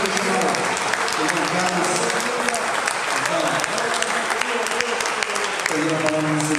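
A church congregation applauds at a worship service, loud continuous clapping with voices and some tonal sound mixed underneath throughout.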